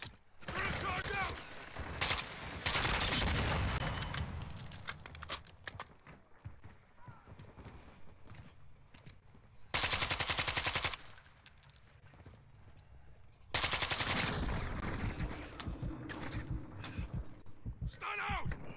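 Gunfire from a Call of Duty team deathmatch, dense bursts of rapid shots and a few loud bangs mixed with game effects, with players talking over the action.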